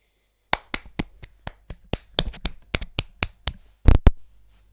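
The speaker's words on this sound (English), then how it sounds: "I think that's a deserved round of applause." Applause in the F1 2018 racing game after a career-mode race: sparse, separate claps at an uneven pace, each sharp and close, with a louder double clap near the end.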